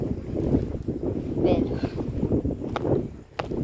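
Gusty wind on a bridge buffets the microphone with a steady low rumble, while a person talks over it throughout.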